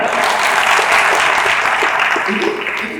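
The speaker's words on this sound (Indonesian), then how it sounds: "Jadi ya tepuk tangan loh." Steady audience applause fills a forum hall at an Islamic scholars' gathering in Cirebon, dense and loud throughout with a faint murmur of voices underneath.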